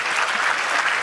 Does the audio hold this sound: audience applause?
yes